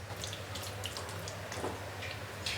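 Water is poured from a vessel into a pot of chickpea curry during home cooking in India, a continuous gurgling splash running steadily throughout with light drips, close by and with no voices.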